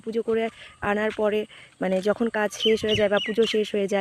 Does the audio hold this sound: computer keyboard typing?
no